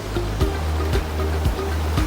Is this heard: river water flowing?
yes